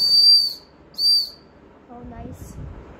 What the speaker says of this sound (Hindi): ये फूल वाली सीटी है